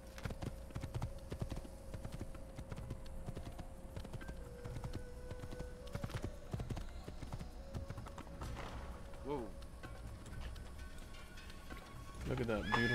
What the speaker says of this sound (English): I'm glad that they gave me a horse.